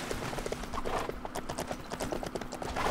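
Horse hooves clip-clop steadily in the video game Lego Lord of the Rings, a quick, even trot of light knocks that stays fairly quiet and close against a soft game background.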